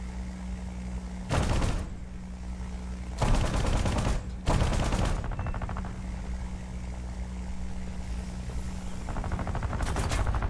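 Aircraft machine guns firing at an enemy plane in a video game, three distinct rattling bursts over a steady propeller engine drone, with a final burst at the end.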